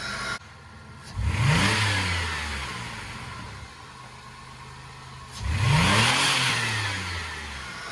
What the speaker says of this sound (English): Oh yeah, listen to that first start with the new intake